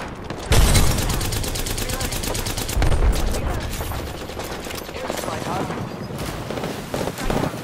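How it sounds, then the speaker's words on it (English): Enemy gunfire aimed at the player in a video game, rapid automatic bursts with sharp louder volleys early and midway, continuing as a dense rattle of shots mixed with game effects. "The enemies are shooting at me."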